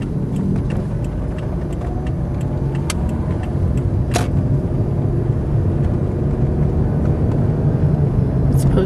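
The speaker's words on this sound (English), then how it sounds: "So traffic is very fast on this road. There's considerable truck traffic as well" Fast road traffic on Freedom Boulevard, a 40 mph road with heavy truck use, rumbles past steadily with a continuous close roar and a few sharper passing swells, with no voices.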